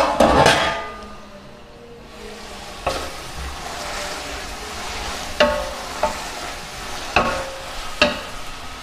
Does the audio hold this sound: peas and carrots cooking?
yes